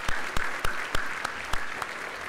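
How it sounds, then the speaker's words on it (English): Sparse, distinct handclaps ring out at a teachers' banquet, a few sharp claps spaced apart over a low background murmur. "that's definitely worth the applause"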